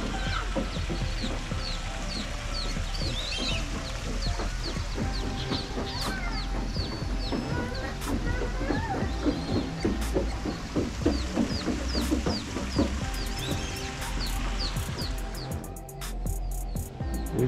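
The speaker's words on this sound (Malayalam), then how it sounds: "ഈ കാണുന്ന ബേഡ്സുകളൊക്കെയാണ് ഇവിടുള്ളത്." Birds at Sharjah Safari Park cluck and chirp repeatedly, some fowl-like calls among them, over a continuous buzz of insects. The calls come at an even, moderate distance.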